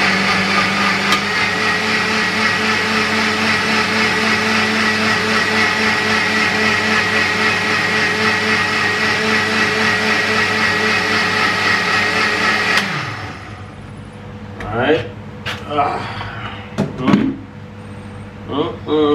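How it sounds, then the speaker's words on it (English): A kitchen blender runs continuously at a steady loud whir for about thirteen seconds, then cuts off abruptly, leaving quieter clattering and handling sounds with a person speaking. "And then cover your blender. Then just pop it on and pulse it out."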